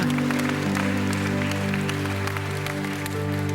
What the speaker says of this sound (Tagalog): Lahat po tayo pumalakpak sa Panginoon.